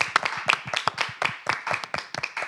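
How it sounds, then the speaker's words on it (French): Scattered hands clap in uneven bursts nearby, a small group's applause with sharp, distinct slaps rather than a full roar. "Applaudissez-moi."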